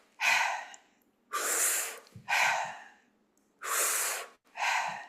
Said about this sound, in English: we'll breathe in through the mouth and out through the mouth